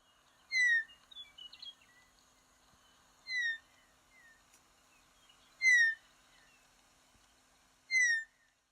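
A western meadowlark in open country sings four clear, separate phrases of descending flute-like whistles, spaced a few seconds apart with faint chirps between them, heard alone against a quiet background.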